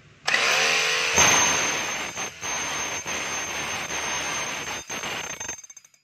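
A DeWalt D25133 rotary hammer set to hammer mode kicks in with a loud, harsh, steady roar for about five seconds, dipping briefly a few times before stopping abruptly.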